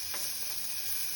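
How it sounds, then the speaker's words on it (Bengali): Chopped tomatoes sizzle in a pot of pumpkin soup as they are stirred, a short, even hiss of frying with faint scraping underneath. "টমেটো কুচি দিয়ে দিলাম। একটু নাড়তে থাকতে হবে"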